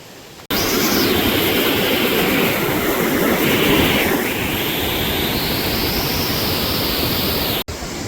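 The flooded Sawatsada waterfall near Chiplun in Konkan roars with a massive, continuous broadband rush of water, loud and close, surging steadily for several seconds without speech.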